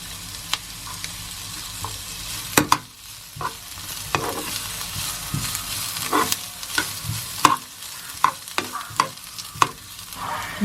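Taco filling sautéing in a little oil in a pan, a low steady sizzle broken by frequent sharp scrapes and clacks of a spatula stirring, close up with no voices.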